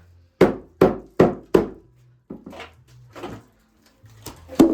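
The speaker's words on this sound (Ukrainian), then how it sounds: "Резиновим молотком все нормально" A rubber mallet strikes a polyurethane foam beehive: four evenly spaced hollow knocks, then a pause and a few softer, irregular taps, ending with two sharper hits close by.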